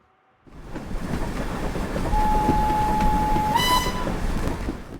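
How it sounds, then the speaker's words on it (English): LSWR T9 class steam locomotive in Train Simulator, a steady rumbling roar of a moving train with a long sustained whistle tone and a brief higher shriek near the end, no talking. "This is the London and South Western Railway T9 class, a steam locomotive brought to TS by Caledonia Works."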